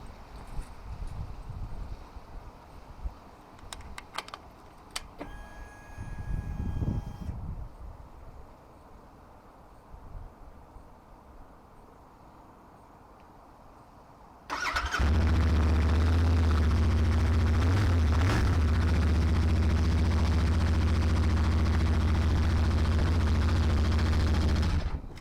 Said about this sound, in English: So we're just going to fire the bike up for no particularly good reason other than I like to hear it running.